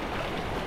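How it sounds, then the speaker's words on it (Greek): Strong wind roars across the mic at a fishing spot in a dense, steady rush, buffeting and loud with no pauses. "Μιλάμε απίστευτα εκνευριστικός αέρας"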